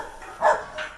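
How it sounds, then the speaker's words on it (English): Alsatian dogs bark from behind a yard in South Wales, with two short, moderately loud barks close together against a quiet background. "I can't even see those bloody dogs."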